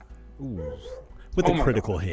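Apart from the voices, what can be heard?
dogs barking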